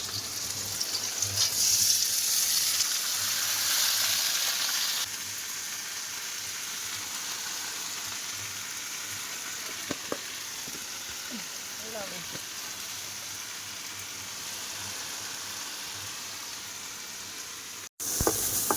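River crabs fry in a pan with chopped potato and malabar spinach leaves, giving a dense, steady sizzle that is louder at first, then settles into a softer, continuous hiss with a few light clinks.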